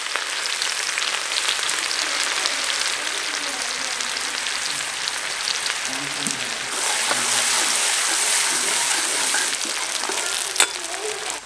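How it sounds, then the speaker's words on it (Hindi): Garlic and onion sizzle loudly in hot oil with cumin for a village tadka, a continuous crackling hiss that swells brighter partway through, with a faint clink of a utensil near the end. "और अब डाल देते हैं लहसुन और प्याज।"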